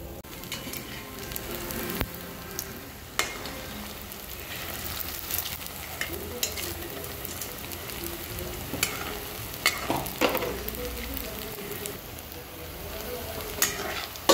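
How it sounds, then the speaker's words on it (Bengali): Taler bora, palm fruit fritters, deep-frying in oil over low to medium heat, a close steady crackling sizzle with scattered sharp pops and occasional clinks, no talking. "তেলে দিয়ে দিয়েছি, এইবার মিডিয়াম হিটে রেখে এটা আমি ফ্রাই করব।"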